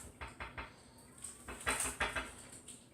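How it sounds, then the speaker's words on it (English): A rubber spatula scraping balsamic reduction from a pan: soft, irregular scrapes and light knocks against the metal, close and fairly quiet, in a series of short strokes with no talk. "Give this a good scraping with the rubber spatula."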